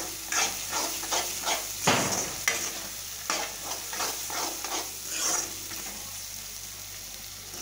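Tomatoes fry in a pan with a constant sizzle, while a spoon stirs and scrapes in irregular strokes, including one sharp clatter early on; no one speaks.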